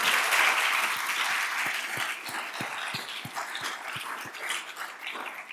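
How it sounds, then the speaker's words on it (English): Audience applauding at an access-to-justice awards ceremony, a dense sustained clapping that fades slightly over several seconds, with a few sharp low thumps scattered through it. "I think you deserve a round of applause."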